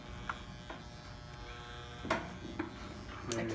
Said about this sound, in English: Switching clippers to the cordless ones we bought because those old clippers we just found are terrible.